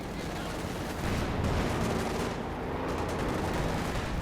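Dense machine gun fire rattles on in Company of Heroes 2 during a 1v1 match, a continuous crackling barrage with bursts layered over one another, loud and unbroken.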